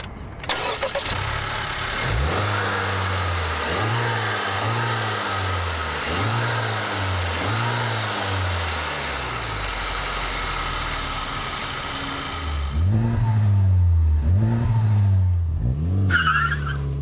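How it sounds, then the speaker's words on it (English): A 2019 Honda Civic Type R's 2-litre turbocharged 4-cylinder engine revs repeatedly, rising and falling in rhythmic bursts, then pauses briefly before a louder, throatier set of revs close by. "The heart and soul of the Type R is its 2-litre turbocharged 4-cylinder engine."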